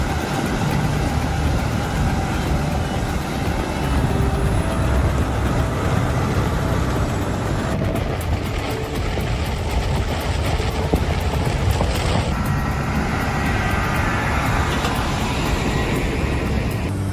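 A truck tows a Caterpillar 385C excavator weighing 91,000 pounds along a road, its loud engine drone and rumbling traffic noise continuing steadily and close throughout.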